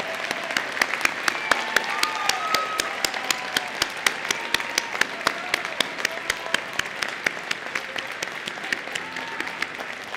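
A large audience applauds the December 2019 graduating class of Piedmont Technical College at its graduation ceremony, with dense, sustained clapping in a big hall and some individual claps standing out sharply throughout, with faint cheering mixed in.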